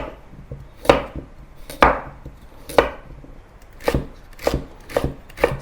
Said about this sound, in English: Cut a carrot into wedges.